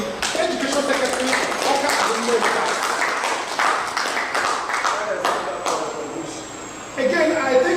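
An audience gives a round of applause for an education secretary at a Catholic and government school management roundtable, steady clapping from a moderately sized crowd that continues for several seconds, with a voice speaking over it.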